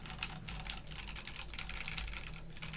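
Continuous rapid clacking of keys on a newly built Rama U80 mechanical keyboard, close and steady, with no talking.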